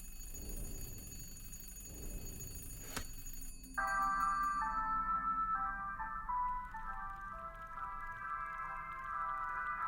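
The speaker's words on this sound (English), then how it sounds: "we're gonna answer the phone that we have just called" A telephone rings in the puzzle game The Room 3, a steady electronic ringing tone that sets in partway through over low ambient game music.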